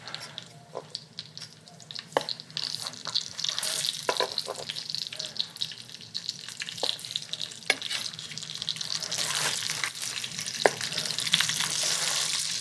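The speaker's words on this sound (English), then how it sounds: "so you can hear the sizzle" Summer squash and zucchini sizzle in oil in a pan, a close, steady crackling fry with occasional sharp pops and stirring clicks, growing louder and hissier toward the end.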